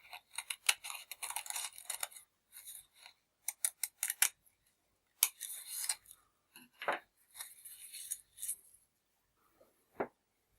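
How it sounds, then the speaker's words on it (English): Scissors cutting crepe paper leaves diagonally from corner to corner: crisp, close snips in quick bursts separated by pauses in a quiet room. "we're going to cut them diagonally from corner to corner."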